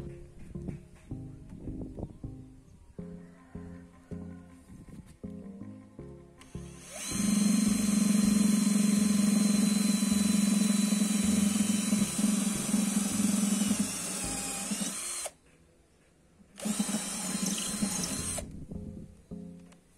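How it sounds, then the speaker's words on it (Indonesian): A RYU RCI20V cordless impact drill bores into old wooden roof rafter stock, starting with a loud, steady whine that runs about eight seconds, briefly stops, then resumes for a shorter burst, close and alone. "Ini kita coba akan bor ya. Bor kayu."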